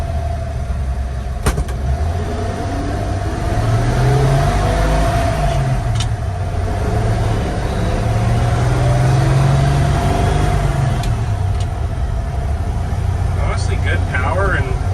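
A 1951 GMC 3100 pickup with its original 228 inline six downshifting on the road: a loud, steady low engine drone whose pitch sags and climbs as gears change, with road rumble throughout.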